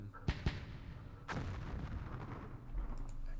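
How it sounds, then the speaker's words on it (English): Mortar fire in the Vietnam-era wargame Campaign Series Vietnam: two sharp close booms in quick succession, then a third heavier blast that rolls into a long rumbling decay under steady battlefield noise. "Direct attack. With mortars."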